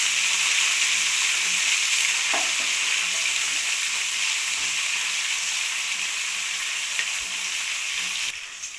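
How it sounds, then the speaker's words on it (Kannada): Curry leaves and green chillies fry loudly in hot oil in a pan for shavige uppittu. The close, continuous sizzle and hiss carries light stirring scrapes and eases slightly at the very end, with no voices. "ಕರಿಬೇವು ಹಾಕೊತಾ ಇದ್ದೀನಿ, ಹಸಿಮೆಣಸಿನ್ಕಾಯಿ ಹಾಕೊತಾ ಇದ್ದೀನಿ. ಚೆನ್ನಾಗಿ ಫ್ರೈ ಆಗಲಿ."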